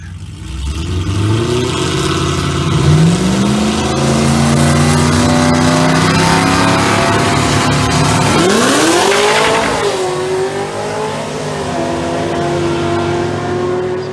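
Supercharged 2016 Camaro SS convertible with a Procharger on a drag strip pass, engine loud and close, winding up through rising revs and gear changes, with a surging climb and a wavering pitch near the end.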